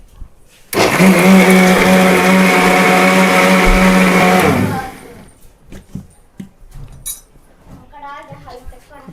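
A loud, steady kitchen mixer grinder whir blending fruit runs for about four seconds, then cuts off, leaving scattered clinks and kitchen clatter.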